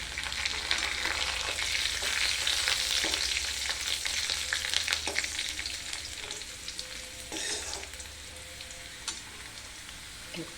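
Bay leaf and cinnamon sizzle in hot oil in a pan for a whole masoor dal dish, a steady close crackle with a few stirring knocks that eases slightly toward the end.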